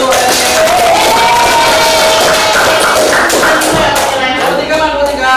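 A classroom audience in an Indonesian school cooking-lesson presentation cheers and claps for group 3, a loud, steady burst of crowd noise with shouting children and clapping throughout.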